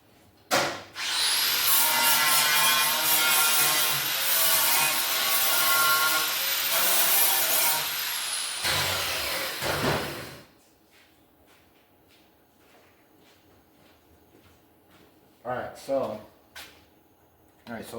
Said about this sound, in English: I'm going to go grind them off real quick